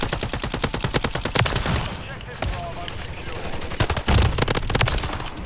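Holger 556 rifle in Call of Duty Mobile firing repeated rapid automatic bursts, sharp cracks in quick rhythm with brief pauses between volleys, loud and close, with a voice talking intermittently underneath.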